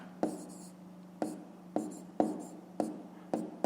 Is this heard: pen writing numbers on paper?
yes